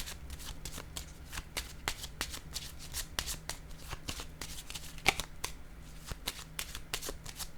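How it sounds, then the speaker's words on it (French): Soft, close riffle-shuffling of a card deck, heard as a quick run of crisp flicks and taps in a quiet room before another card is drawn. No one speaks. "Là, je vais piger une autre carte ici, avant que ça sonne."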